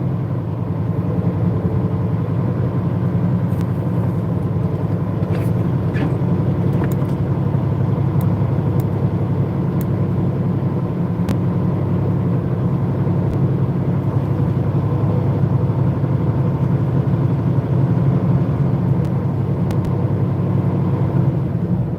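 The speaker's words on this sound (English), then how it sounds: "Look at all them trucks backed up." Trucks idle in a traffic backup on an icy, closed highway, making a loud, constant engine rumble with faint clicks and no speech.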